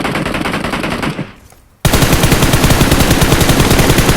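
Automatic gunfire in PUBG Mobile on the Nusa map rattles loud and close in rapid bursts, dropping away for a moment before a fresh, dense stream of shots starts up.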